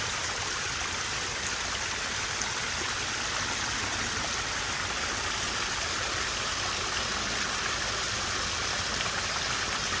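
Continuous rushing and splashing of a garden waterfall falling into a goldfish pond, steady and close, with no voices.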